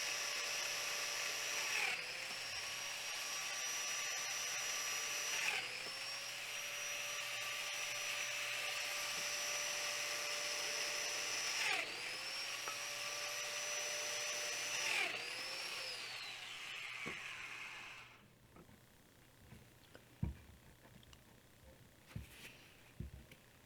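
A domino joiner cuts mortises in wood with a steady high-pitched motor whine, rising and dipping in several plunges before cutting off, followed by a few light clacks of handling.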